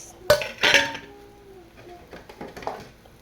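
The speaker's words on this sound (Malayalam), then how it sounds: "ഇനി നമുക്ക് അടപ്പ് തുറന്നു കൊടുക്കാം" A metal lid lifted off a cooking pot of mushroom curry: two sharp clanks close together, followed by softer clinks and scraping of cookware.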